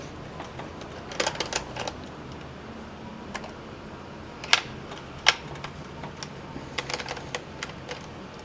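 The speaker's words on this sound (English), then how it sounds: "now we have those 4 screws out" Screws are removed from a Dell Inspiron 1525 laptop's hinge cover, heard as sparse small clicks and ticks at close range, a few sharper snaps among faint scratching, with no talking.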